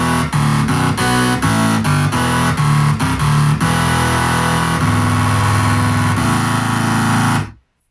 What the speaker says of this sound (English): And it's a very distorted type of sawtooth sound.